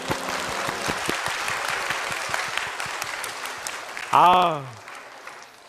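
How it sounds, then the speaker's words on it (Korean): Church congregation applauding children's choir at an evening service, a steady patter of many hands clapping with a voice calling out near the end as it fades. "박수."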